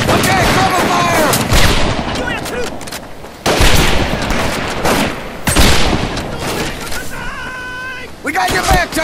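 Heavy gunfire in the 2004 video game Medal of Honor Pacific Assault, on the Makin Atoll battlefield: loud, continuous bursts of rifle and machine-gun fire with booms, while soldiers shout over the noise.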